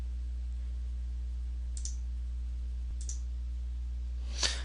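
A computer mouse gives a few sharp, isolated clicks with pauses between them, close and quiet over a low steady hum, with a slightly louder click at the end.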